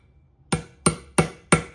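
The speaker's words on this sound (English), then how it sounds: "I'm hammering it in," Four sharp, evenly spaced hammer blows ring out close by as a part is driven into a bead lock wheel, with quiet in between and no talking.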